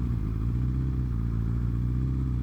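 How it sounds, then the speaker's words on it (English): A motorcycle engine revs beneath a bridge during a Miami outing, a loud, steady low rumble with strong harmonics and a mechanical clatter that holds close and constant throughout. "Should we give it a couple revs under the bridge?"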